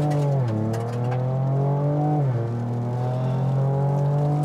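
A 2023 Ford Ranger Raptor pulls away on a normal takeoff, its engine note dipping briefly between gear changes, then holding a loud, steady, close growl as the truck accelerates, with no voices.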